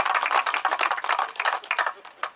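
Audience applause at a school campus opening ceremony: dense, bright clapping from a crowd, steady and close, tapering off near the end.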